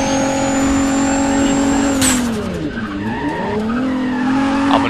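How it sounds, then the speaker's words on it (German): A race car in Need for Speed: Pro Street runs at full throttle, its engine droning steadily with whining harmonics, then a sharp tire squeal and a dip in pitch as it brakes through a corner before revving back up. "Dann die zweite Runde fährt man Vollgas."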